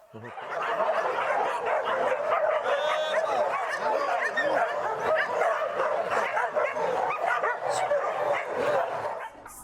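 Several dogs bark and yip in a lively overlapping chorus, close and loud, with whimpers mixed in and barely any pause throughout.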